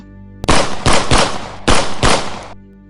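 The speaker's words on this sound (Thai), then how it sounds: "ปืนในมือที่กระชับมั่นของแต่ละคนได้ระเบิดกระปนาดขึ้น" Loud gunfire, five heavy shots in quick succession, two pairs and a single, sharp and close with no talking.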